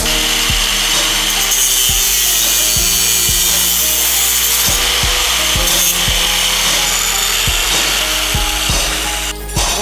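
A very sharp saw blade cuts through wood in a workshop making solar ovens, a continuous loud rasping grind punctuated by repeated knocking thumps, ending with a brief dip.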